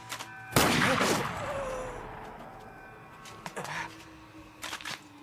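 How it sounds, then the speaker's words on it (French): One sharp, loud gunshot cracks out and rings into a fading echo, followed by a few quieter clicks and knocks. "J'engage la balle dans le canon Takashi! et je tire."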